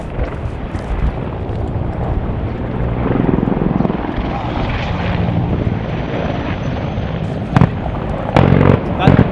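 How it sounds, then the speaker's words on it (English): A few heavy booming shots crack out near the end over a constant droning aircraft engine, with the first boom more distant. "That's the cannon fire."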